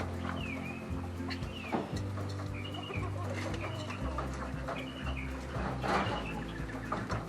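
Pigeons feed from containers in breeder pens, with soft cooing and clucking calls scattered through a steady, fairly close flutter and shuffle of birds, with no talking.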